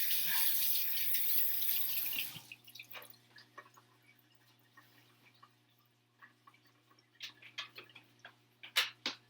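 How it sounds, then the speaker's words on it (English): Tap water runs steadily for about two seconds while hands are washed at a kitchen sink, then cuts off, leaving scattered drips and small clinks. "Wash off my hands real quick."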